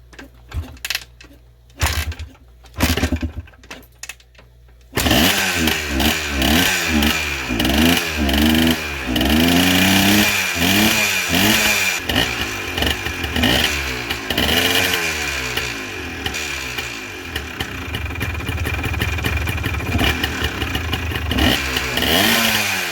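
A 1984 Honda 250R three-wheeler engine sputters through a few brief kicks, then catches and runs loudly and close, revving up and down in uneven bursts before settling toward a steadier, raised idle.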